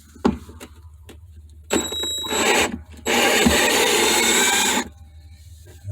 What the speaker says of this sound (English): So I'm going to start to take out the screws.